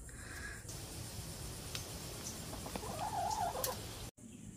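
Backyard chickens by a sweet potato patch give a few soft clucks and short calls, fairly faint against quiet outdoor ambience.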